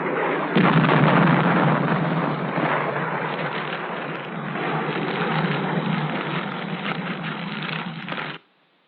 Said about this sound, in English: One burst of 20-millimeter incendiaries from the F-105 the helicopter.